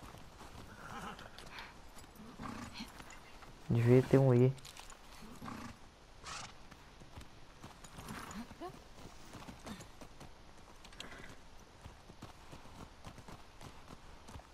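Horse hooves clip-clop at a steady walking pace in The Last of Us Part II, fairly quiet beneath game ambience and a loud brief burst, while people talk over them.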